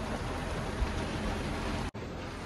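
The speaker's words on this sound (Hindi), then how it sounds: "बाकी बारिश चल रही है" Steady rain hissing evenly on a surface, a dense unbroken wash of sound that cuts out abruptly for a moment near the end.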